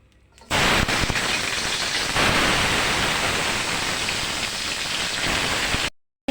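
Drumsticks (moringa pods) dropped into hot oil with slit green chillies, a sudden loud burst of steady sizzling that holds for several seconds and then cuts off.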